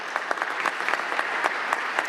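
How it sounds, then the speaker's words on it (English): Applause from an audience at a Cleveland City Council meeting: a steady patter of many hands clapping, moderately close, with no speech over it. "I want to give him applause for that"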